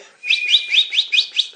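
A voice imitates a canary, giving six quick, bright chirps in a steady run, close and fairly loud, with no talk over them.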